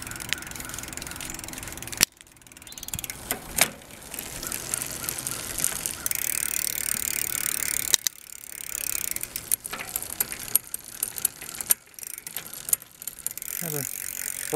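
A restored trash-picked bicycle shifting gears, with repeated ratcheting clicks of the drivetrain and freewheel close by, broken by sharp mechanical clunks and brief pauses.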